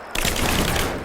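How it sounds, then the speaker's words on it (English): Sustained automatic gunfire in the video game Rise of the Tomb Raider, one dense, loud burst of rapid shots with no gaps. "Give me suppressing fire now!"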